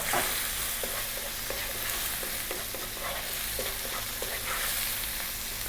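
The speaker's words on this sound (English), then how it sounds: "You actually really want to fry the rice." Okra fried rice with salt, black pepper, coriander and chili powder frying in a pan, a steady loud sizzle broken by repeated scraping stirs throughout.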